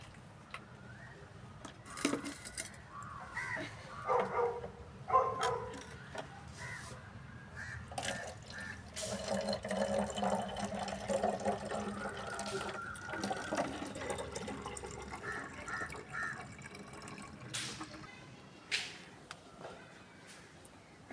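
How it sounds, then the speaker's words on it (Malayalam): Water is poured and splashes for several seconds at a moderate level, with scattered knocks and crows cawing now and then in the background. "ഈ ഒരു വെള്ളം ഒഴിച്ചു കൊടുക്കാം"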